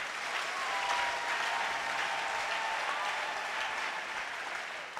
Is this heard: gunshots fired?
no